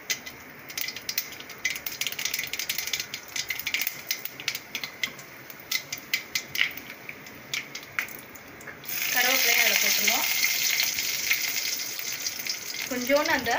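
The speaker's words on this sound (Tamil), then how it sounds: "2 வரமிளகாவையும் அதில் நம்ம கிள்ளி போட்டுருவோம்." Mustard seeds, lentils and broken dried red chillies crackle and pop in hot oil as tempering for tomato kadayal. Light spitting clicks come first, then a loud, steady sizzle surges up, with a voice briefly audible under it.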